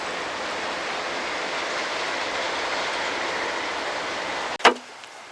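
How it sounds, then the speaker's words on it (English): A passing train by a riverside RV campground in Goldpan Park, British Columbia, produces a steady broad rumble that holds for several seconds before a sharp thump cuts it off near the end. "Here comes another train."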